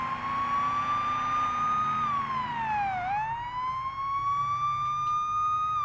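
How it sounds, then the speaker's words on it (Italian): Police car siren in the Police Simulator video game, a steady electronic wail with a clear pitch dip and rise in the middle, loud and continuous over a low engine and traffic rumble. "si va di sirena. E via, sirene spiegate"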